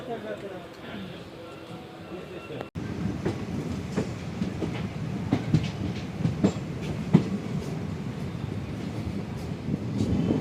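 A passenger train departing Rajkot early in the morning, heard from inside a carriage: a steady rumble with rhythmic clickety-clack of wheels on rail joints, close and continuous, and a voice talks at points over the noise.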